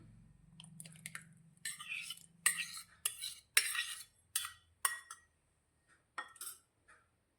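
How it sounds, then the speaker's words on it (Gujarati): Half a bowl of yogurt added with a spoon into sifted whole wheat flour for a pizza dough, heard as a series of close clinks and scrapes of the spoon against a bowl in short irregular bursts. "તેમાં આપણે અત્યારે અડધી વાટકી દહીં લીધું છે તે દહીં અંદર ઉમેરી લઈશું"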